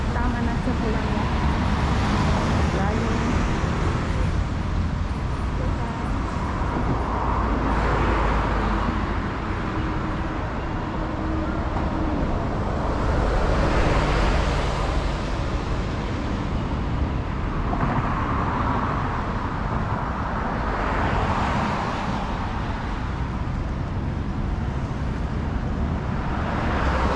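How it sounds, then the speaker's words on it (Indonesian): Busy roadside traffic in Hong Kong, with cars and buses passing in repeated swelling waves over a constant roadway rumble, and a person talking over it. "Ini di pinggir jalan ya teman-teman, ramai sekali suara mobil."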